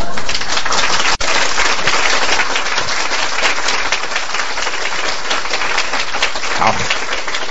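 Large audience at an Amway talk breaks into sustained applause, a dense, even wash of clapping that carries on steadily for several seconds with a brief dropout near the start.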